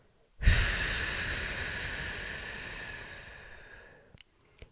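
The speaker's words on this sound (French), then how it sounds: "tu vas prendre une grande inspiration et retenir l'air un petit peu, et puis tu vas relâcher tout l'air en soufflant très fort" A person draws a deep breath in, holds it briefly, then blows it out hard in one long, loud exhale that fades away, close to the mic and with no talking.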